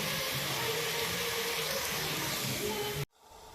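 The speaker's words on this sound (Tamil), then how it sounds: "தேவையான அளவுக்கு தண்ணி சேர்த்து கொதிக்க விடுங்க" Water pours steadily into a pot of okra curry as it is cooked, a continuous rushing splash that runs for about three seconds and then cuts off abruptly, leaving a faint hiss.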